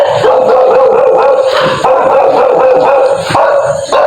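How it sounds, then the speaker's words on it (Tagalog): Several dogs bark and yip repeatedly, fairly close, with overlapping barks and a shrill background hum. "Ayun, may aso."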